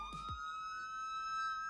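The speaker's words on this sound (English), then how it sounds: "Look at that beautiful siren." A police siren from a California Highway Patrol car in a Roblox game set in Los Angeles County wails steadily and loud, holding a bright sustained electronic tone for the whole moment after a brief swooping onset.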